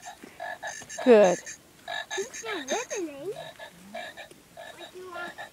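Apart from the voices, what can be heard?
leopard frog croaking at a pond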